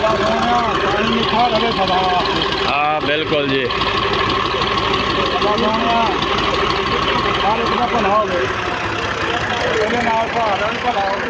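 A tractor engine idles steadily throughout at a newly installed tube well, with several people talking over it.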